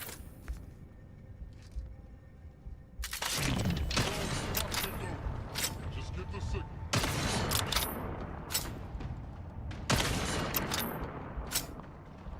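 Several gunshots in The Outer Worlds 2 sound as sharp bursts, with a few close, loud volleys and sporadic single shots over roughly twelve seconds, while a person talks throughout.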